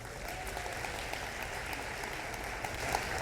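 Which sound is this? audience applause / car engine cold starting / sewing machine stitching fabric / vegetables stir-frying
audience applause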